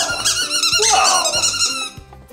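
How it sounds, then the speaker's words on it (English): Squeaky toy balls squeezed repeatedly by a dog, giving loud, rapid high squeaks in quick bursts across the clip, with a brief spoken exclamation over them. "they squeak like crazy, they're so annoying, and they're addictive for the dog"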